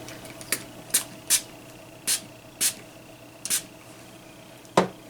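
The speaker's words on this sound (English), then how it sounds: "I'm just gonna spray that on my finger" e.l.f. Makeup Mist sprayed onto a finger in a series of about eight short, crisp hissing bursts at uneven intervals, close up and distinct against a quiet room hum.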